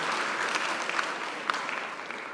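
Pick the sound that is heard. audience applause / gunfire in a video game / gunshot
audience applause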